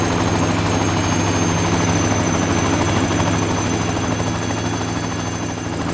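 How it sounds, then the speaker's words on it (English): Three Llama helicopters lifting off at a cable car tower construction site in Hong Kong, a loud, steady, close rotor and engine roar with rapid blade chop that fills the whole stretch without a break. "a fleet of 3 Llama helicopters take to the air."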